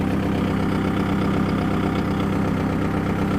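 A 2024 Kubota MU4501 tractor engine runs at a steady, loud idle, a continuous rumbling drone with an even throb and no talking.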